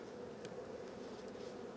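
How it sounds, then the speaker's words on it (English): Honeybees buzz around an opened hive during a first hive check, with hundreds more in robbing or foraging mode right next door; a steady, faint, close drone of many insects with no voices. "there's hundreds of bees right next door in robbing mode"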